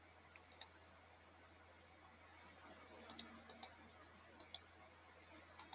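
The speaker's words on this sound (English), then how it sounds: "I'm typing it all in as one thing" Typing on a keyboard, quiet sparse clusters of sharp key clicks in short bursts of two to four strokes, faint against a low steady hum with no voices.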